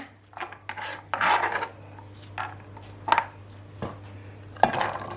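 A knife cuts a potato into small dice on a board, producing several separate scraping, knocking strokes at an irregular pace, close and fairly quiet over a low steady hum.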